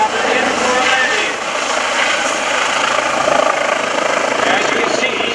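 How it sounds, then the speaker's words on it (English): An EC135 medevac helicopter descends to land at the 2014 Greenwood Lake airshow, its loud, steady rotor and engine roar filling the scene continuously. "he will bring that EC135 helicopter in for a landing"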